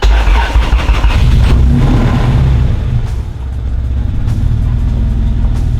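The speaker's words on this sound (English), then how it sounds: "The car is idling way better." A Honda Civic hatchback engine catches with a loud rumble, then settles into a steady, close idle.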